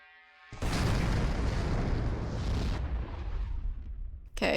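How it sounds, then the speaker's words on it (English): Earth blowing up in a video game, a sudden massive explosion that bursts in after a quiet tonal hum, then a long roaring rumble that slowly fades before another sharp blast hits at the end. "Okay, Earth just blew up, bro."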